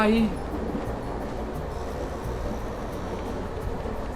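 A train rolls along in the Roblox horror game The Last Stop, giving off a steady, low, rumbling clatter throughout. A voice is heard briefly at the very start.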